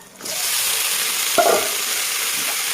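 Chopped ivy gourd and potato drop into hot oil with chili powder, setting off a sudden steady sizzle that continues evenly, close, with one brief clatter of a utensil partway through.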